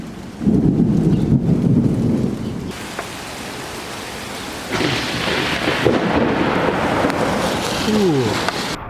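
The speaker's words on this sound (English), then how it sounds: "We just got put under a severe thunderstorm warning for this storm that's about to hit us right here." A severe thunderstorm in New Jersey, with a loud close rumble of thunder at first, then steady heavy rain that swells louder partway through, and a brief voice near the end.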